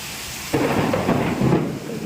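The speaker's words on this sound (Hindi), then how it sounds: "बारिश नहीं बिजली कड़की है" A loud crack of thunder breaks over steady heavy rain, rolling into a long rumble that slowly fades.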